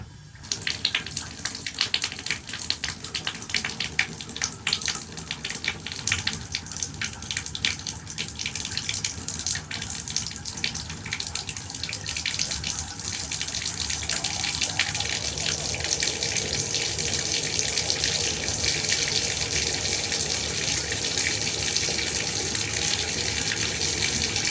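Water running from a bathtub tap during a leak check, a steady, close hiss and gush that carries on unbroken and grows slightly stronger partway through.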